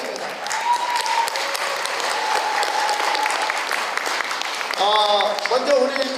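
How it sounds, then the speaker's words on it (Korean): Applause from the audience at an opening ceremony for an NGO broadcaster and a Korea–Mongolia federation assembly, a steady dense clapping that carries on throughout, with a voice and some tonal sounds coming in near the end. "큰 박수 한번 주시면 대단히 감사하겠습니다."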